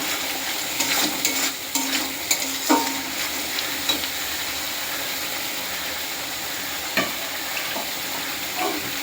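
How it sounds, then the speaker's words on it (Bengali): Spice masala frying in released oil while being stirred: a continuous close sizzle broken by repeated scraping and tapping of a spoon in the pan, busier at first and sparser later. "মশলাটা বেশি আমি কষাবো না, দেখতে পাচ্ছ তেল ছেড়ে দিয়েছে।"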